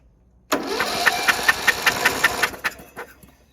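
A Murray lawn mower engine being cranked, about two seconds of fast rhythmic pulsing chugs from the turning motor, loud and close, cutting off abruptly and followed by a few scattered clanks.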